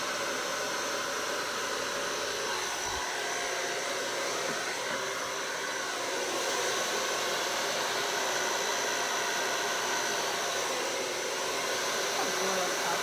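A hair dryer blows steadily across poured acrylic paint, a close, constant loud whoosh that keeps going for the whole stretch without pause.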